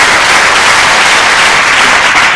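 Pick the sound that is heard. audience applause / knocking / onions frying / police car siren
audience applause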